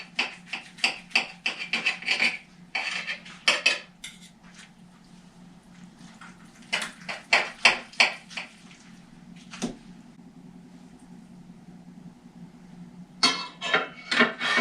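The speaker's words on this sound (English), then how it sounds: "we're going to cut all the breast meat into slices" A knife cutting slices from roast turkey breast meat on a board gives a run of close, rasping strokes in uneven bursts, pausing for several seconds before resuming.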